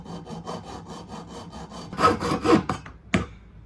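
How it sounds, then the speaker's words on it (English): Soft aluminium tubing from a hardware store is cut for a vintage mountain bike's single-speed conversion. Steady back-and-forth sawing strokes sound close and clear, ending in a few heavier, rougher scrapes. "it's just soft aluminum, so you can just kind of cut it pretty easily."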